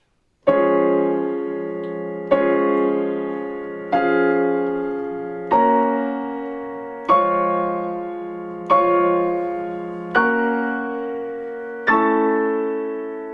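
Piano playing the second-beat chords of Rachmaninoff's Prelude Op. 32 No. 13: eight full, ringing chords struck one at a time at an even, unhurried pace, each left to decay before the next, close and alone.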